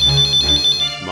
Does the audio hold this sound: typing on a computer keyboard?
no